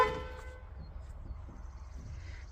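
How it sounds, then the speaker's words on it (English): A school bus horn honks during a pre-trip inspection, a faint tonal blast at the start that fades into quiet cabin and engine background. "We'll honk the horn."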